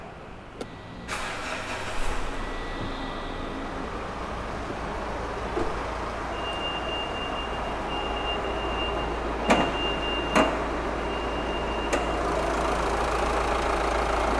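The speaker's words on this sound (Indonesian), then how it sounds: "coba kita dengerin suara mesinnya" A car engine starts, then settles into a steady, even idle with a constant low hum, with a few light clicks and taps nearby.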